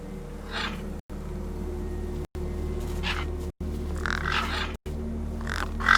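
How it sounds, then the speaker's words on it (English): Birds caw and squawk in short bursts while feasting in the video game Beyond a Steel Sky, set over a steady low ambient hum, with the calls rising and fading and the soundtrack cutting out briefly several times. "No way I was going to get between those birds and their feast."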